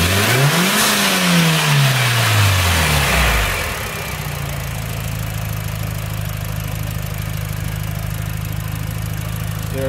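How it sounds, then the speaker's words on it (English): A 2006 Mitsubishi Lancer EVO 9 MR with a turbocharged 4G63 engine revs up sharply, climbs, drops back, and then settles into a steady, even idle close by. "Very healthy engine."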